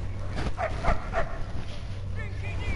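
A dog in the Mad Max video game gives a few short barks and yips near the middle, over a steady low game hum and background ambience.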